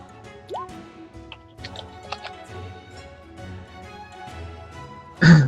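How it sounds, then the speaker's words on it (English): Quiet, scattered taps on a computer keyboard come in short irregular bursts under faint background voices and room noise, ending in a sudden louder burst. "Someone's typing."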